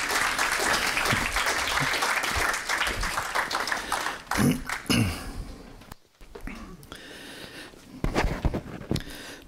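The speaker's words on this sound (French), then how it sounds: "Un tonnerre d'applaudissements, s'il vous plaît." Applause at a TEDx conference at Louvre-Lens breaks out as the first speaker is introduced, a dense clapping wash that fades briefly mid-clip before a short burst of claps returns, with some talk mixed in.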